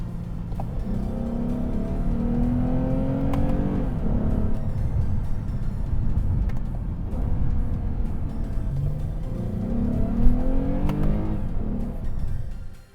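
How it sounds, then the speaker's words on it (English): Lexus GS350 engine in Sport Plus mode accelerating hard, loud rising engine tone through several quick gear shifts, each climb dropping back and building again, with no voices. "when you put this car in Sport Plus mode, it wakes up the engine, and the transmission shifts a lot quicker"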